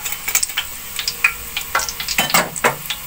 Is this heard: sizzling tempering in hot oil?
yes